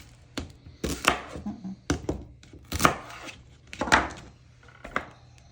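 A knife chops through the ends of fresh, washed celery on a cutting board, about eight sharp, crisp cuts at an irregular pace, close and clear with no talk.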